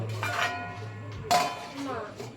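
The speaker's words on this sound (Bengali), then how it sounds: "এরপর আমি ঢাকা দিয়ে দেবো" A metal lid clanks onto a pot of katla fish curry on a home stove, one sharp clink with a faint rattle after, over a low kitchen hum.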